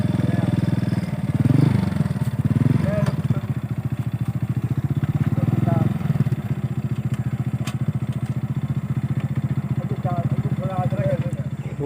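A motorcycle engine idles steadily and close by, with a rattling clatter, as it is loaded onto a wooden river boat. Voices are heard in the background.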